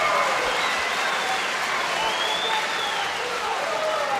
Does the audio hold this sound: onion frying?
no